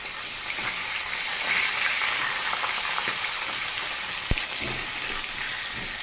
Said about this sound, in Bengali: মাছ ভাজা শুরু হয়ে গেছে।